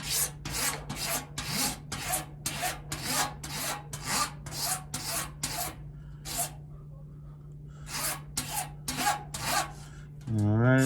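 A blade on a wooden propeller is shaved down by hand in a series of close, rhythmic rasping strokes, with a brief pause partway through and a steady low hum underneath.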